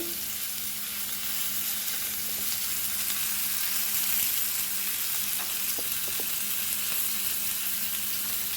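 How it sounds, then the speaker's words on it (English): Kalundra (pearlspot) fish frying in a pan for Goan recheado gives a steady, close, hissing sizzle that carries on throughout, with a few faint clinks and no talking. "And it is fried nicely, so it is done."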